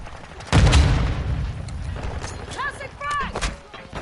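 A frag grenade goes off in Modern Warfare 2 with a loud sudden boom, then rumbling debris and distant gunfire, while voices shout over the battle.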